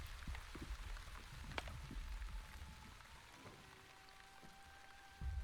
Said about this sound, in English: So this rain really hit hard.